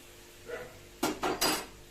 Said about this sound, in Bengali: আমি এবার ঢাকা দিয়ে দিলাম।